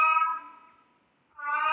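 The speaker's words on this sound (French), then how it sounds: "Mon chat, il adore miauler." A pet cat named Oggy lets out two drawn meows close by, the first fading away and the second rising after a short silence.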